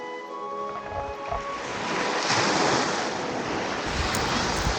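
Waves surge onto a Lake Michigan beach at Manistee, Michigan on a cold day, a continuous broad wash of surf mixed with gusting wind buffeting the microphone, swelling louder midway.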